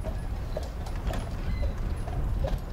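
Horses at an urban horse auction, with hoof clip-clops and shuffling over a steady low rumble of background noise, fairly close and continuous.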